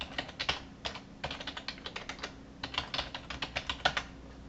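A Gmail password being typed on a computer keyboard: a run of close, crisp key clicks in short uneven bursts with brief pauses, heard alone.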